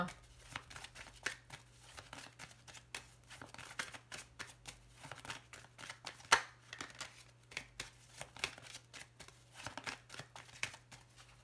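Lenormand cards being cut and shuffled by hand, a quick run of close, crisp card riffles and taps with one sharper snap partway through, soft and continuous over a low steady hum.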